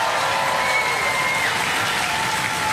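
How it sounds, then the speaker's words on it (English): An arena audience at a Robot Wars heat applauds, giving a dense, steady wash of clapping and crowd noise that stays loud throughout. "round of applause for Spawn of Scudder."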